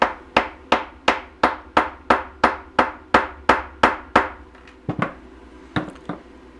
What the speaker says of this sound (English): And I'm going to take a rawhide mallet and give that a tap on top.